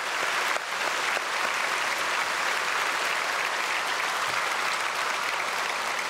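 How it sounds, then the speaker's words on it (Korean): Sustained applause from a large church congregation during a Sunday service, steady and full for several seconds without letting up. "우리 크게 박수로 축복하겠습니다"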